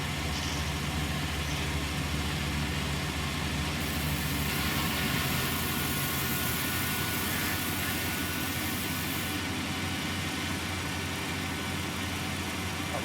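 A vehicle engine in a farming video game running steadily as it drives off, a loud continuous drone with a faint change in tone midway and no pauses or talk.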